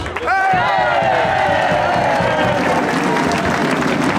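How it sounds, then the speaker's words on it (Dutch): A large crowd applauds loudly and continuously at a welcome for a schutterij (marksmen's guild) in Melick, Netherlands, a dense wash of clapping with some cheering mixed in. "gefeliciteerd en een groot applaus"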